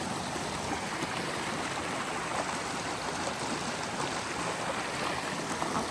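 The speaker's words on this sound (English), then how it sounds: "You guys can probably hear the water in the background. That's actually flowing pretty good." Steady, broadband rush of flowing water, continuous and fairly close, like a lively stream running without pause, swollen after almost two days of rain.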